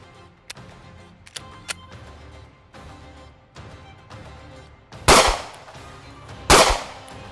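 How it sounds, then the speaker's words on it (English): Two sharp, loud shots from a .45 pistol crack out close by about a second and a half apart, after several faint clicks and ticks of handling. "I have this 45, and it's going to kick a little bit more"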